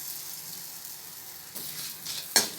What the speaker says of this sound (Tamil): இந்த எண்ணெயிலேயே மிளகாவையும் புளியும் அப்படியே வறுத்து எடுத்துடலாம்.